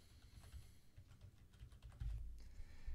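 A computer keyboard clicks and taps as a username and password are typed in. The keystrokes are quick, uneven and close but quiet, with no talking.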